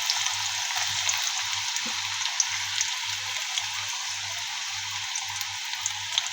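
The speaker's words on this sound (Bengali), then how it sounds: "এখন দিয়ে দেবো পেঁয়াজ কুচি।" Chopped onion fries in hot oil in a wok (kadai), a steady dense sizzle and crackle, loud and close, with a faint low pulsing hum beneath it.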